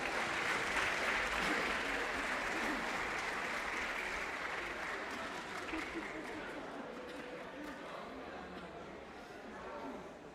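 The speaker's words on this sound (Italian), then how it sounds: "Allora un applauso, il coro" Audience applause for a choir at a live event in Ollolai, dense steady clapping that fills the whole stretch and slowly fades a little toward the end, with no speech over it.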